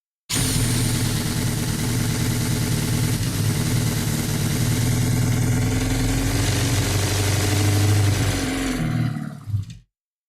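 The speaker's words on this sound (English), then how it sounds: "Give it a pinch more on the throttle." A V8 engine on a stand during a build runs loud and steady with a deep rumbling roar, its throttle held slightly higher, then cuts out and fades near the end.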